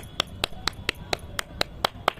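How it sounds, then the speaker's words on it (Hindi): Slow, evenly spaced claps, about nine sharp hits in a steady rhythm, as an audience at a school Raksha Bandhan function welcomes performers onto the stage; fairly faint, with a low murmur underneath. "अब तालियां बजाइए"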